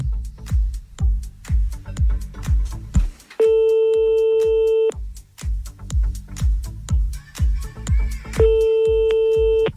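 Radio prank call on NRJ: a phone line rings in repeated regular bursts, with two long steady electronic tones between them, loud and close with no talk.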